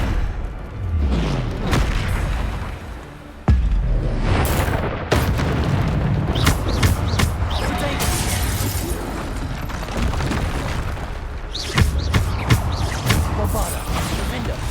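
Bombarda spell blasts in Hogwarts Legacy gameplay: repeated loud booming explosions with crashing impacts amid continuous game combat noise and spell effects, a sharp blast near the start and bursts scattered throughout.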